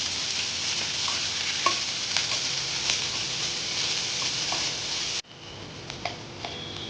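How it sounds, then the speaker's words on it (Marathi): Finely chopped onion and green chili sautéing in a pan for paneer bhurji, a bright steady sizzle with scattered ticks and light spatula taps, cutting briefly before resuming slightly quieter. "कांदा छान परतून घ्यायचा आहे"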